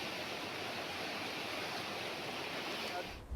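Water roaring out through the open gates of the rain-swollen Bhatsa dam at about 14,300 cusecs, a constant, heavy broadband rush with no break.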